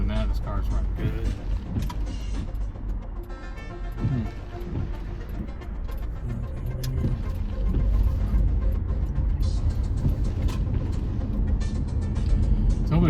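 A parked car's engine idles in a mall parking lot with a low, steady rumble from inside the cabin, growing slightly louder toward the end, with some faint mechanical sounds over it.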